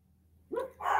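Dog barks indoors, a short close sharp bark followed by a louder second one, over a quiet background.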